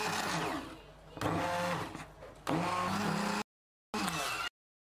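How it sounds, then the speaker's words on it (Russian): A blender mixes gluten-free, sugar-free chocolate cake batter in short, close motor bursts that rise and fall in pitch, separated by brief stops, ending in two quick pulses with silence between them. "Тут также можно воспользоваться блендером."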